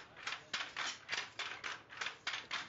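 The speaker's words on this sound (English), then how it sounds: "Then he pulls the lever, and the shuttle passes through these layers carrying a weft thread." A Paithani handloom works in a steady rhythm, its lever pulled and its shuttle shot across the warp again and again, giving quick, even clacks and whooshes close by. No one speaks.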